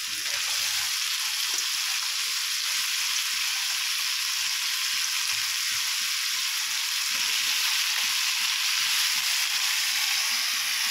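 Chicken pieces fry steadily in a pan, a dense continuous sizzle with faint stirring and scraping underneath.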